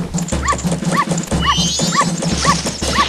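A small dog in Zelda: Majora's Mask barks in repeated short yips about twice a second, bright and synthetic over a steady looping background hum and game music.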